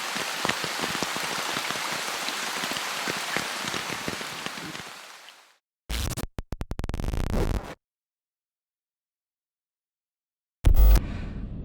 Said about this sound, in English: it's really coming down now. I'm so glad I put this tarp up.